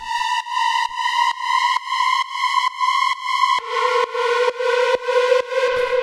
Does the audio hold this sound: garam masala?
no